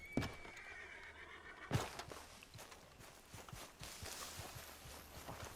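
In Red Dead Redemption 2, a horse gives two loud whinnies close by, followed by a steady series of hoof clops as it walks on, with no talk.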